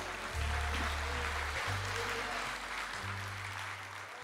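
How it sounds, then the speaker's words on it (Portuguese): Congregation applauding at a church worship service, a steady wash of clapping sustained throughout over a low droning musical tone. "Aplauda ao Senhor agora."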